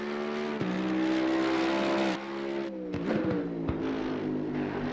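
Mercedes-AMG EVO GT3 race car engine in Assetto Corsa Competizione at Brands Hatch, revving hard with rising harmonic pitch, a sharp gearshift drop partway through, then climbing again with chattering throttle blips, loud and close.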